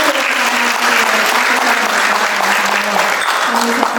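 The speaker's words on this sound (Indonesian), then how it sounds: "para hadirin boleh kita beri tepuk tangan apresiasi" A seminar audience applauds, a dense, even roar of many hands that carries steadily throughout, with a faint voice murmuring beneath it.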